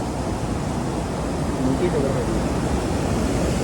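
Water rushing under strong pressure at a small earthen dam during traditional fishing, a loud, steady broadband roar of flowing water that stays constant throughout, close by with no talking.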